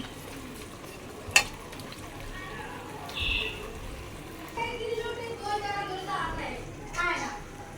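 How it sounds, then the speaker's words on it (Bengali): Beef or goat meat frying in cooked spice paste for biryani, stirred with scraping and soft sizzling, with a sharp clink near the start; a voice talks faintly in the background. "এই যে মশলা মাংসটা দিয়ে একটু নাড়িয়ে দিচ্ছি"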